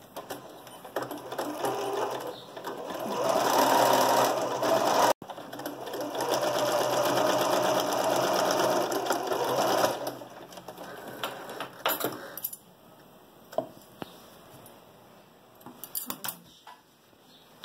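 A sewing machine runs in long, loud continuous bursts while stitching all the way around the edge of a small fabric card holder, following the presser foot, then stops and leaves scattered clicks and handling noises.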